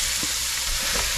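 Pork sautéing in a pan with curry powder, a brief, steady, close sizzle with no voices.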